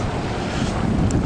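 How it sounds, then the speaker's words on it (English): Wind gusting outdoors near the water on a cold day, a steady broadband rush buffeting the microphone throughout, with no voices. "the wind is blowing"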